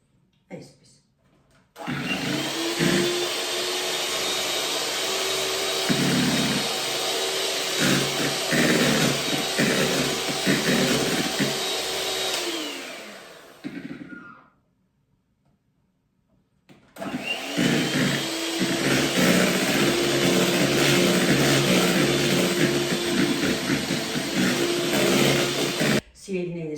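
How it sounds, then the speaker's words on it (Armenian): An electric mixer beats egg yolks, added one at a time, into meringue for a honey sponge cake, with a steady loud whirring that runs about twelve seconds, pauses briefly, then resumes just as strongly. "հիմա մեկ-մեկ ձվի դեղնուցները ավելացնում ենք բեզեի վրա և հարելու ենք"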